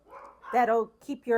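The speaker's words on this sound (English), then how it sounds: "They're always got to bark at the wrong time." Dogs bark indoors in a kitchen, giving several sharp, close barks in quick succession while a person speaks over them.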